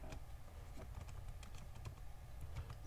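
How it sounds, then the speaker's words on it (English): A computer keyboard is typed on to enter a username and password, with quick, light, irregular key taps close by and no talk. "Type in your username,"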